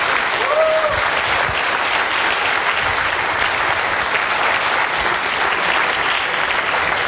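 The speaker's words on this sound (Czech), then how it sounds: "Prosím, potlesk." A conference audience at a WebExpo web development talk breaks into sustained, dense applause after the lecture, a loud, even wash of clapping that holds steady for the full seven seconds.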